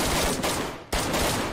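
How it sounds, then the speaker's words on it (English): An Annihilator fires rapidly in a video game, a loud, continuous burst that cuts out briefly before a second burst starts. "I'm gonna push up and get spawn kills with the annihilator."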